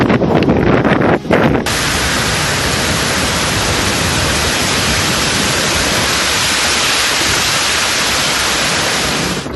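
Strong gale winds of Cyclone Fengal roar along the Tamil Nadu coast as a loud, continuous rushing blast buffeting the microphone, steady throughout after a brief gustier start.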